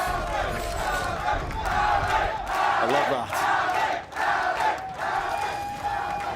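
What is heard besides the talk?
esports arena crowd cheering at a Valorant match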